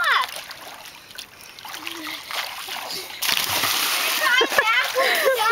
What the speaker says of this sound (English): He's practicing his dive.